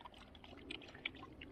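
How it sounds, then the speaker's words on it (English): Water is poured for a dog outdoors, a quiet, faint trickle and splash with small drips over low background noise. "Got to give the dog some water"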